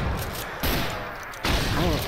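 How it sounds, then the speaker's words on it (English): Rapid gunfire in Brutal Doom on Ultra Violence, heard as dense, continuous blasts with two louder surges, loud and close. "shooting at these other guys."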